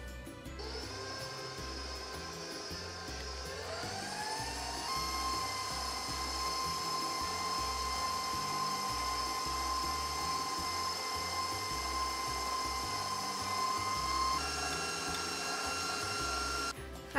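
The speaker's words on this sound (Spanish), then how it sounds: "batir hasta que la mantequilla haya acremado" An electric hand mixer whirs steadily as it beats creamed butter with egg yolks for a nut and coconut cake, its motor pitch rising and holding loud and close for most of the stretch.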